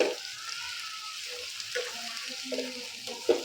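Chopped tomato dropped into a frying pan of sizzling onions and spring onions, giving a soft, close hiss of frying with a few faint clinks near the end and no talk over it.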